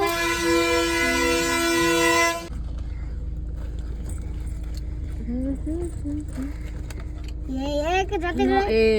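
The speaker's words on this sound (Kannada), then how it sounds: "ಟ್ರೈನ್" A train horn blares loudly for a couple of seconds, then a train rumbles past with a low steady drone while people talk nearby.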